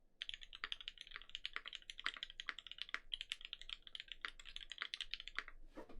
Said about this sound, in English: Let's do 2 minutes of typing.